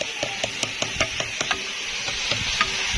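Ginger-garlic paste and ground chili paste fry with onions in a large cooking pot, giving a soft continuous sizzle broken by a rhythmic series of sharp scraping knocks from a stirring spoon.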